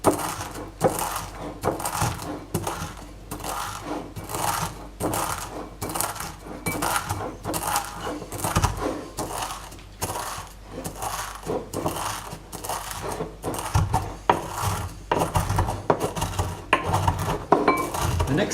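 Roasted coriander seeds are crushed and ground in a mortar, a steady run of close, rhythmic clinking pounding strokes with a gritty edge, repeated continuously with no talk.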